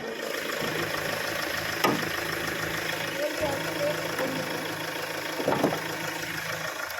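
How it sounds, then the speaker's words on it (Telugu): A 2015 Mahindra XUV500 W8 diesel engine idles steadily with the bonnet open, a low continuous hum with faint knocking, broken by a couple of brief clicks. "చూడండి సార్, మీకు ఇంజన్ కూడా చాలా అంటే చాలా స్మూత్గా ఆడుతుంది. ఇంజన్ ఆల్రెడీ ఆన్లో ఉంది."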